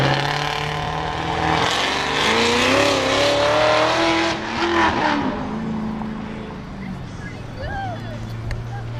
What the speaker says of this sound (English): And that, my friends, is a G8 GT with a, what kind of blower does he have? Oh, he's got a Magnuson blower with cutouts.